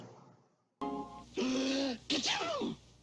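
The NBC peacock cartoon character has a sneezing fit: after a brief hush, two loud, strained voiced sneezes burst out close up, each with a drawn-out wheezy build and sharp release. A voice performs the sneezes.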